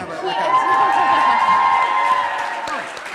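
A live comedy audience breaks into steady applause mixed with crowd cheering and shouts, loud and sustained for a few seconds before easing slightly.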